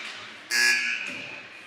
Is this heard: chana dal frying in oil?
no